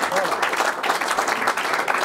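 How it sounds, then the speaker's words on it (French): Dinner guests at a wine club gathering clap together in a loud, dense burst of applause lasting a couple of seconds, close and steady. "Applaudissez, voilà"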